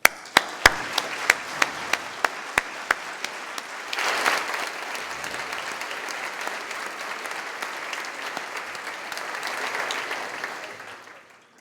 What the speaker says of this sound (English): I'd like to ask you to join me to give a very warm round of applause